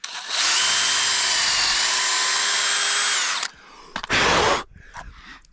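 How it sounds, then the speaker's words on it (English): Power drill boring out the pin of a Petzl Long Life climbing bolt, a loud steady high whine for over three seconds, then a pause and a shorter second burst with some rattling after. "the pin is mostly drilled out"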